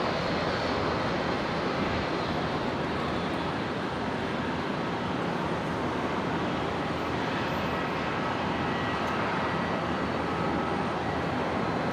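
Air North Embraer jet at Brisbane airport, a continuous broad jet engine rush with a steady, fairly distant roar that holds without change.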